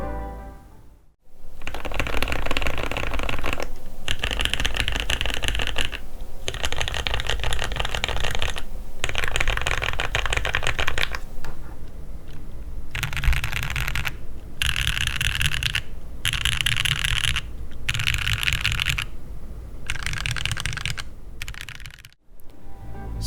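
Steady, rapid typing on a Tofu65 mechanical keyboard with O-ring mod, clacky and close, continuing for a long stretch with a few brief pauses and no voices.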